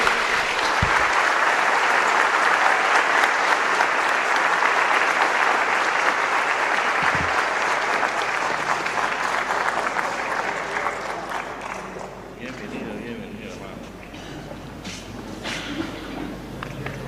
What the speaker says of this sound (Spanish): Un fuerte aplauso ante la Iglesia de Dios